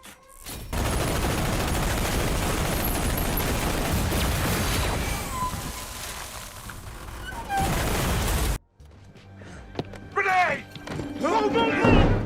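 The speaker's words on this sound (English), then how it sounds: "Machine guns." Machine gun fire in a sustained, dense roar of rapid shots lasting several seconds, loud and close, followed by a sudden cut to sparser thumps and mechanical clatter.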